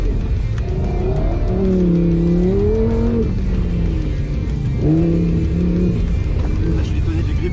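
A Lamborghini engine revs hard on a track, its tone sweeping upward through a first strong acceleration, dipping, then climbing again in a second pull, loud over steady road and wind noise.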